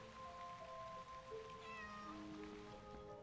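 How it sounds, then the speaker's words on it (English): Alley cat in a video game giving a meow over a quiet ambient game backdrop with faint rain-like hiss and sustained tones, no talking. "It's an alley cat."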